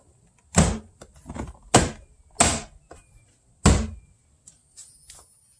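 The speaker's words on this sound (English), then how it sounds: "we're going to slap our wooden trim back in place." Wooden trim on a BMW door is slapped back into place, a series of about five sharp, close knocks and thumps with softer handling noises between them.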